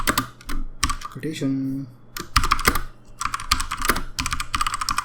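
Code is typed on a computer keyboard in bursts of rapid, close key clicks with brief pauses, and someone speaks in between.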